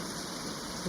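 Steady, hissing rain falling on a surface, an even wash of noise with no pauses throughout.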